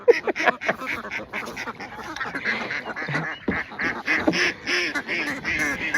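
Ducks caught from the marsh quack in a dense, overlapping chorus of loud, close, rapid calls with honking notes, continuous throughout.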